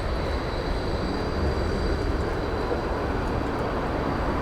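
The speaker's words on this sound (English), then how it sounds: "Now these are the more modern Yarra trams." A modern Yarra tram passing on a Melbourne street, a loud, continuous rumbling roar with a faint high whine on top, filling the whole stretch without any talking over it.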